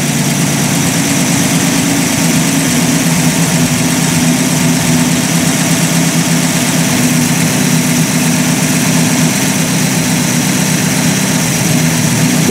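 A Buick Roadmaster engine idles steadily at close range, a continuous low rumble with even mechanical vibration and no voices throughout.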